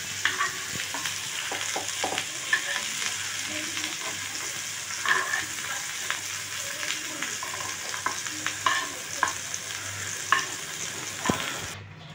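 Whole garam masala, cloves, cardamom and a little cinnamon sizzle in hot oil for a Bengali-style doi echor (jackfruit) dish, a steady close sizzle with scattered stirring clicks throughout and no talk.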